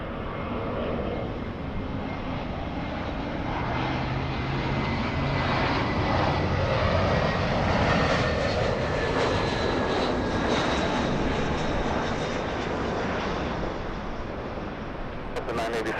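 An airliner's jet engines roar steadily at Los Angeles International Airport (LAX), a loud sustained rumble that swells and holds throughout.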